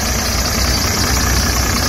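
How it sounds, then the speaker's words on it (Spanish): A Cummins 5.9 turbo diesel pickup engine idling with a steady, loud low rumble and faint knocking, turbo and a slightly squealing belt, close up with no talk. "Quise grabar nomás el motor para que vean el turbo"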